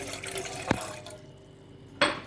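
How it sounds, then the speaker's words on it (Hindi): Water from a glass poured into a cooking pot on a lit stove while making ring samosas: a brief liquid splash and trickle, with clinks of vessels before and after, no talk. "बर्तन लेंगे, फ्लेम ऑन करेंगे, इसके अंदर हम ऐड करेंगे 1 गिलास पानी"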